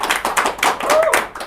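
Hands clapping in a lively indoor gathering, a burst of uneven claps with some voices mixed in, fairly close and moderately loud.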